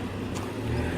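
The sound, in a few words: car road noise heard while driving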